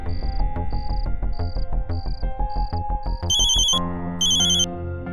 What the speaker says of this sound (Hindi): फोन बज रहा है मैडम सर, मगर कोई उठा नहीं रहा है।